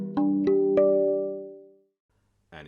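Three notes of a steel tongue drum in a trance scale, including the middle note on the right side, struck in quick succession and ringing together into a long, warm fading chord, close and alone.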